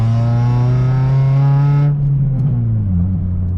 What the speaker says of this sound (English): I just revved it up to 4 grand right there before I shifted.